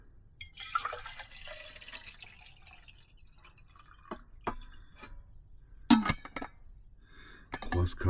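Water is measured and poured for coffee at a truck camping rig, with trickling and dripping, scattered clinks of a container and sharper knocks, fairly close and quiet over a low background hum.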